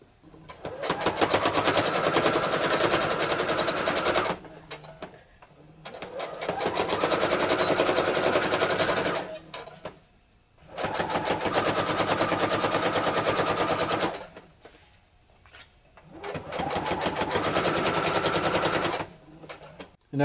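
A sewing machine top stitches a jacket lining in four long runs of rapid, even needle chatter, each several seconds long and separated by short pauses.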